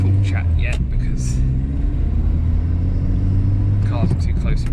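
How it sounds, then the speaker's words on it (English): A Mk3 Golf GTI with a 1.8 turbo engine drives along, its steady low engine drone and airy turbo whoosh running throughout, with brief higher hissy bursts near the start and end, while a person talks over it. "there are some whooshy turbo noises"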